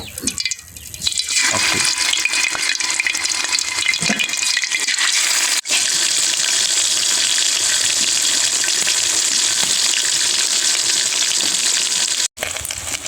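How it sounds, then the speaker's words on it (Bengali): Tilapia pieces frying in hot oil give a loud, steady, dense sizzle that holds nearly unbroken for the whole stretch, with two brief dropouts and no voices. "তেল গরম হয়ে গেছে, এবার মাছগুলো এক এক করে দিয়ে ভেজে নেব।"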